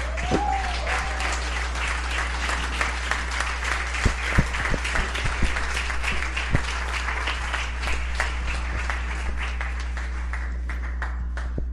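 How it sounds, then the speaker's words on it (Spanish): Church congregation standing to applaud during a Spanish-language revival service, sustained dense clapping across the whole stretch with a steady low hum underneath. "vamos a pararnos y vamos a darle un aplauso al Espíritu Santo"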